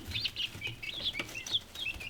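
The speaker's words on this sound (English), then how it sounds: "Those birds are not for you, Floyd." Meat chickens on a homestead give soft, steady clucking and chirping calls, several birds murmuring at moderate distance with a low background rumble.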